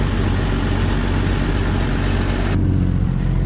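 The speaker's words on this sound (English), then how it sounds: "That's what I like about this engine." A 1998 Jeep Wrangler engine, revived after sitting two years and with a cracked exhaust manifold, runs at a steady, loud idle with a dense rumble and no talking.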